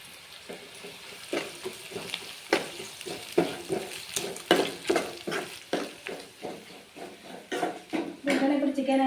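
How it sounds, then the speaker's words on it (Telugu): Ginger garlic paste and onions sizzle in a pan for chicken sherva, with steady frying hiss broken by a regular rhythm of spoon scrapes and stirring clinks, close and fairly loud, and a voice speaking now and then. "కొంచెం అల్లం వెల్లుల్లి పేస్ట్ వేస్తాను"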